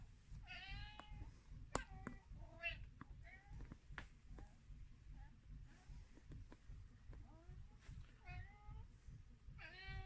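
A pet cat meowing repeatedly in short, rising calls spread across the stretch, fairly faint and indoors, with a person talking quietly between the meows.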